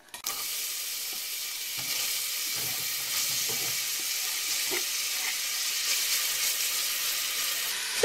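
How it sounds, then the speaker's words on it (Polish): Steady, dense sizzling of onions frying in hot oil, continuous and fairly loud throughout with occasional soft pops and stirring clinks. "Cebulka zaczyna już pływać, zaczyna się smażyć"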